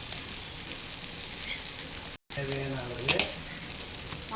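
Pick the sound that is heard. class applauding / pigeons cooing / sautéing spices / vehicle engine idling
sautéing spices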